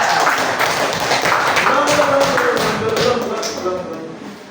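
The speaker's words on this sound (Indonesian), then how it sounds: "tepuk tangan untuk kelompok 3" A classroom full of sixth-grade students claps together, a dense burst of applause that holds steady and then tapers off toward the end.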